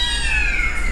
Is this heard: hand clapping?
no